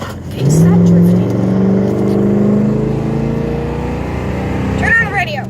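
A car engine revs and drones steadily while drifting, with a loud surge of rising tone at the start that settles into a sustained hum, and voices talk briefly over the engine near the end.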